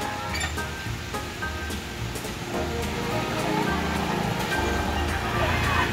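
Heavy rain pours down over an outdoor free lunch giveaway, a dense and steady hiss with scattered spatters and drips on hard surfaces, and voices murmur faintly underneath.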